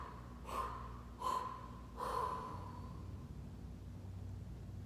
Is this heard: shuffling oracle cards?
no